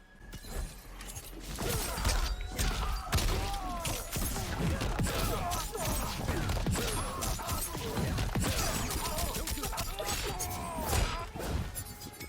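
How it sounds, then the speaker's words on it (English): Cyrax's grenade Kameo move in a Mortal Kombat fight, with repeated sharp crashing and shattering impacts, thuds and mechanical clatter from game combat, dense and continuous under occasional brief voice sounds. "I have done a combo that involves Cyrax forward Kameo move, so right here, the grenade."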